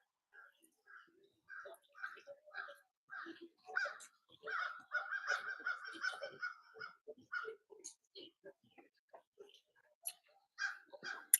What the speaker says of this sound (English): The crows approve.